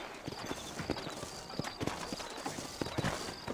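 Horse hooves clip-clop in an uneven, trotting rhythm in the Western video game Red Dead Redemption, close and clear, with a brief snort or whinny and faint talk in the background.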